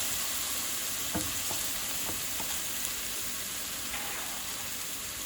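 Chopped green chili and onions frying in vegetable oil, with a constant soft sizzle and a few scattered scrapes of stirring, fairly quiet and close.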